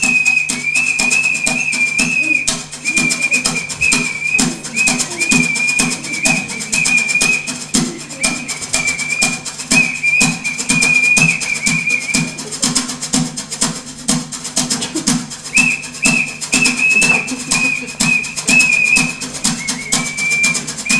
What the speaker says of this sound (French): Celui qui siffle!